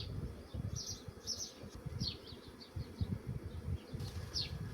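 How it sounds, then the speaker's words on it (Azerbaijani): Honeybees buzz steadily at a hive, a dense close drone with brief high chirps scattered over it, heard without talk. "Yeni çıxmış arı, onun rəngi buz, tər arılardır."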